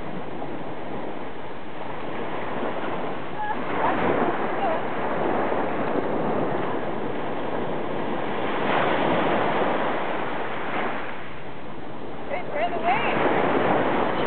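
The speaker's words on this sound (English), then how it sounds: "Hey, where are the waves? There it comes." Steady roar of ocean surf breaking on a beach, with rolling wave swells and some wind on the microphone; a voice and an adult's voice can be heard faintly over the water.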